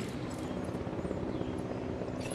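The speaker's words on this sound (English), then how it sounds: "Hey, helicopter!" A helicopter in the video game Jurassic World Evolution drones steadily with a low, throbbing rotor rumble, fairly close and constant throughout.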